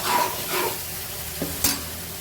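Mushrooms sizzle and fry with spices in a pan, a soft continuous hiss broken by stirring scrapes and a couple of sharp clicks of a spoon against the pan.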